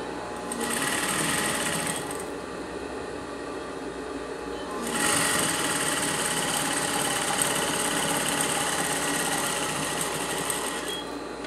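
A sewing machine stitches fabric appliqué in two fast, steady runs, with a brief pause and softer whirring between them, its rapid needle chatter loud and close.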